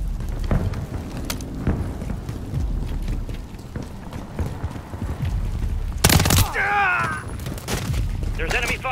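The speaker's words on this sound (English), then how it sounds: "There's enemy fire!" Enemy gunfire in a Call of Duty MW3 campaign mission: scattered shots and sharp bursts crackle through a dense battle din, with a loud close volley near the middle, under talk and radio chatter.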